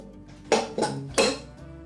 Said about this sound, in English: I've got a cup of pecans that I'm just going to fold in, that I've toasted up